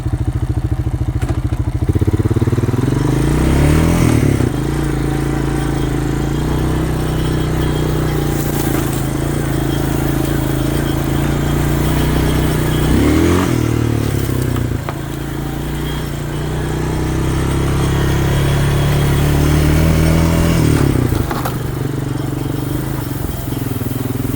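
An old Honda Rancher ATV with a bashed-in front is ridden, its engine droning loud and close throughout, revving up and easing off in several swells.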